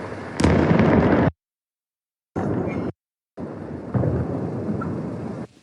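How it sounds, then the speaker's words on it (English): Powerful explosions from a drone strike over the city of Armavir sound as loud, rumbling bursts at night, broken by abrupt silent gaps, with a deep roar that rolls on after each blast. "In the city of Armavir, a series of powerful explosions thundered."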